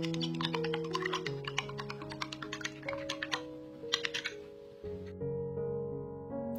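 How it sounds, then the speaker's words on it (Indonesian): Two eggs being beaten loose in a bowl with rapid, light clicking strokes, fairly close, over steady background music. "untuk telurnya bisa kita kocok lepas dulu."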